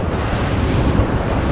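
Wind roaring across the microphone and waves slapping the hull of a luxury Italian RIB moving at speed, a loud, dense, unbroken rush with a low churning rumble and no talk.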